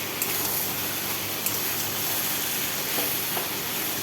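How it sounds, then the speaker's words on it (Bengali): Taro (mankochu) frying in a pan, a steady broadband hiss and sizzle that holds constant with a few faint clicks and no voices. "এইভাবে ভাজতেই থাকবো, জলটাকে শুকিয়ে নেব।"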